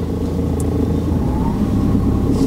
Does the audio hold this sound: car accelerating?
yes